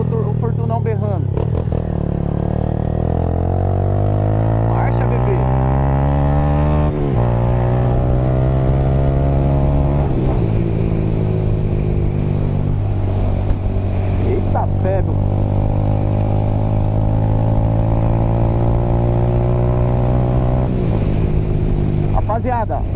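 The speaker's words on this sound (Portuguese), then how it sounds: "pra vocês sentirem aí o escapamento Fortuna aí no modo noturno" A Honda Titan 160 motorcycle fitted with a loud Fortuna exhaust is ridden through city traffic at night, its engine climbing and dropping through repeated gear changes with a throaty, close exhaust drone while a rider talks over it.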